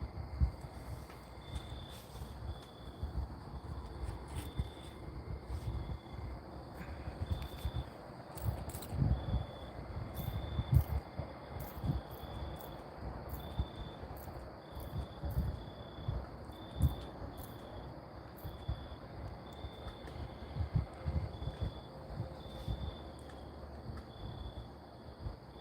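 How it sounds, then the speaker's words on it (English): Crickets chirp steadily in a continuous, rhythmic high trill, with low rumbling and scattered movement noise underneath throughout. "And the real crickets"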